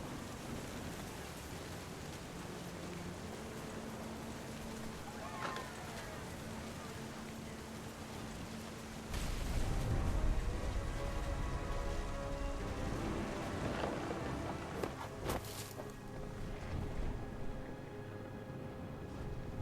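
Video game thunderstorm with steady rain hissing throughout, then a deep rolling thunder rumble swells partway through, heavy and close, while a voice speaks faintly.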